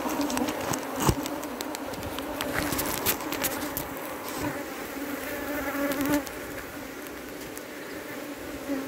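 Africanized honey bees in Trinidad buzz loudly and continuously around an open hive as its cover is slid back on, with scattered knocks and clicks from the equipment over the steady drone.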